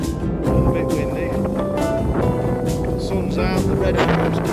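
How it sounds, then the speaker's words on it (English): Strong wind buffets the microphone outdoors on a breezy day on Anglesey, a loud, constant rumbling roar with gusty surges and no clear pause. "Sorry about the wind, it's"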